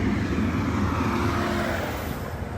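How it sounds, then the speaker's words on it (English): A vehicle rumbles past outdoors, a steady mid-loud roar that holds and then slowly thins as it moves away. "Yeah, there's the car."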